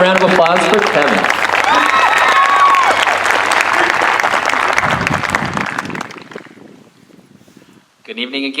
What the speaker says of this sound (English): One more round of applause for Kevin.